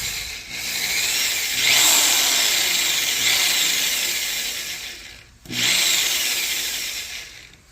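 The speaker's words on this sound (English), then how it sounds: "I've connected the VSS to a drill, and I can see an increase in the voltage when the drills run." A power drill wired to a vehicle speed sensor input whines steadily at close range, stops briefly near the end and then spins up again, with no talking.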